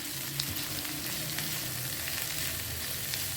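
Small cut eggplant pieces fry in a pan on a tawa for Hyderabadi tawa baingan, giving a dense, continuous close sizzle with faint stirring underneath.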